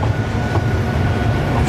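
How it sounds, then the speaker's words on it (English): The Icon roller coaster train at Blackpool Pleasure Beach rumbles loudly and steadily on its track with a low mechanical hum and faint rattling, with no talking. "There's one of those trains now about to launch."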